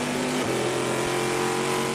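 An aluminum-block, titanium-valve Chevrolet V8 race car engine pushed hard at an American Le Mans Series race in Baltimore sends out a loud, continuous high-revving roar with a brief pitch drop.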